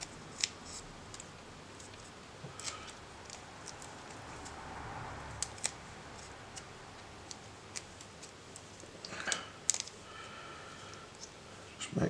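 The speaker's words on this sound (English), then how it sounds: "Let's just snip that off there." Scissors snip electrical tape on a small electronics project with an LED, coil and magnet, giving faint close clicks and snips over a steady low background hiss, with a clearer crisp cut near the end.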